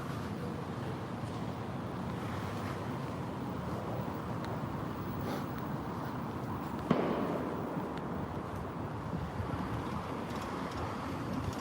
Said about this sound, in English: Another firework from the protest.